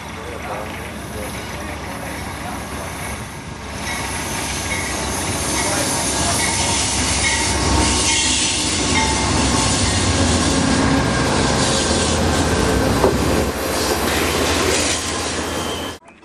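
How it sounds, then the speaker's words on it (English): The Amtrak Coast Starlight passenger train pulls out of Klamath Falls station with a loud, steady rumble of railcars that builds as it moves off, wheels squealing and clacking over the rails. "some passengers board the train, and soon the Coast Starlight pulls out of the station"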